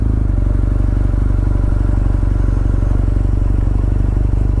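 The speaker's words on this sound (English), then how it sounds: "Beautiful day, riding on a beautiful BMW." A BMW R9T motorcycle riding on the road, its engine a steady, loud, rhythmic low drone with constant wind and road rush, unbroken throughout.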